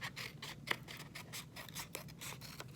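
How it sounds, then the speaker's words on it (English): Scissors snip repeatedly through paper in quick, quiet cuts, with a soft rhythmic scraping close by and no talking. "I'm actually just gonna go in with my scissors"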